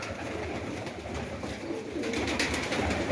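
Pigeons, including marble-coloured pairs, coo softly and steadily against a noisy, rustling background, with low murmuring calls overlapping throughout.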